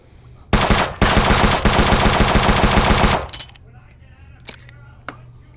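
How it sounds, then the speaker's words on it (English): A P90 submachine gun firing in the VR shooting game Gun Club VR: a loud, close burst of very rapid automatic fire that is broken once by a short pause, then a few scattered clicks and clatters afterward. "P90, aka the world's fastest shooting gun ever."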